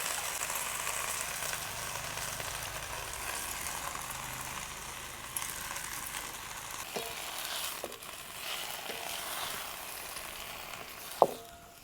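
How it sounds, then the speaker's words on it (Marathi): Chopped aghada vegetable fries in hot oil with chili masala, giving a steady, close sizzling hiss, with a few light clinks from stirring near the end. "चांगली तेलामध्ये परतून घ्यायची."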